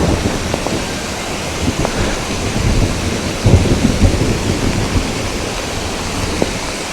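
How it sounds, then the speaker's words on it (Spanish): Low rolling thunder rumbles through a steady downpour in an Andean ravine, with a few louder cracks standing out against the constant hiss of rain. "Escuchen los truenos."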